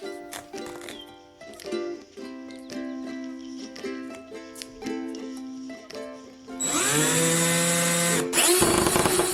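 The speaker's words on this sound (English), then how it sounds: "Now the screw holds firmly and screws in easily." A power screwdriver drives a screw held on its bit with tape, in short, stuttering whirs. A longer, louder continuous run near the end finishes with a brief stop.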